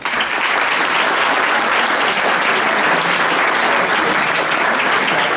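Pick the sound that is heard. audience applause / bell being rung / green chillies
audience applause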